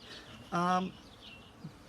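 A honey bee on a brood frame from a hive gives a single short, close buzz, a brief droning tone standing out over quiet background.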